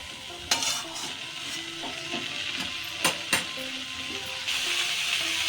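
Nate greens cooking with a fish head in a pan give off a steady sizzle with occasional stirring scrapes and clinks from a utensil, and no one is talking.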